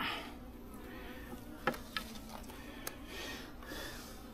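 Faint, close buzzing of a few bees on a frame pulled from a weak, dying hive, a thin wavering drone with a few small knocks and clicks from handling the frame.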